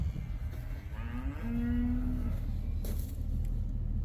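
Calves being loaded into a trailer give one long, clear moo rising and then holding steady, near and prominent over a low rumbling background with a brief clatter afterward.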